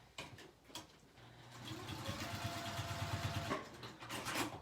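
A sewing machine stitches around a D-ring. A few taps come first, then a steady motor whir with rapid needle pulses runs for about two seconds and stops. More light handling noises follow.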